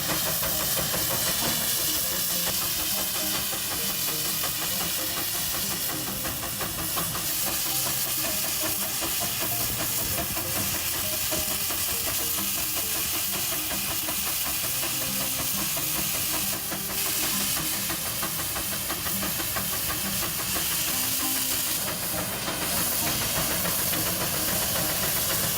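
Constant loud hissing with a dense rumbling mechanical chug underneath, steady and unbroken for the whole stretch, like a steam engine venting exhaust.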